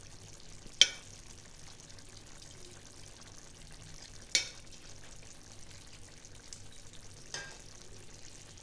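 Bengali-style katla fish kalia simmers in a pan with a soft, faint sizzle, broken by three sharp clinks of a utensil against the pan spaced a few seconds apart.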